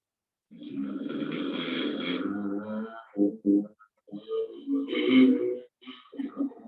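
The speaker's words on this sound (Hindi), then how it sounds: "इस तरीके से यहाँ वाइब्रेशन हुआ, खर्राटे की आवाज हुई" Snoring-like throat breathing during a yoga breathing exercise, two long rasping vibrating inhalations through the nose with short breathy sounds between, close and fairly loud.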